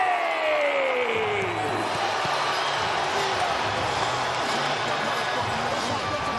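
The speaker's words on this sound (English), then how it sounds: "This sold-out crowd is on fire. It is buzzing in here." A sold-out boxing arena crowd in Las Vegas roars for Devin Haney, a loud, continuous wall of cheering and whooping, with an announcer's voice trailing off at the start.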